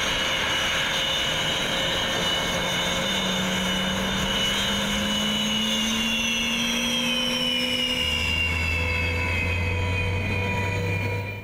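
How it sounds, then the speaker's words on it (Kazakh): A Su-30SM fighter jet roars in a loud, continuous engine drone with a high whine that slowly falls in pitch as it passes, and a deep rumble joins near the end. "Солардың ішіндегі ең соңғылары Су-30SM бомбалаушы ұшақтары."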